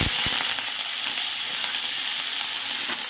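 Bitter gourd fries in oil seasoned with black cumin seeds, giving a dense, steady close-up sizzle with faint stirring clicks throughout.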